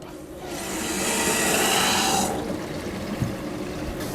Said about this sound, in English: let me turn the water back on.